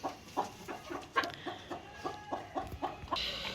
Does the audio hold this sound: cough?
no